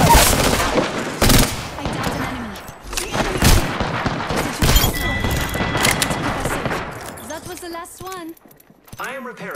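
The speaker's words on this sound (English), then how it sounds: "Opening fire on the enemy." Rapid gunfire and explosions from a shooter video game, with dense bursts of automatic fire and heavy booms filling the first several seconds, then thinning out as a voice speaks near the end.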